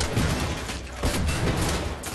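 Dense gunfire and explosive grenade bursts crowd a firefight in the shooter game Wolfenstein: The New Order, loud and continuous with no gaps; no one speaks.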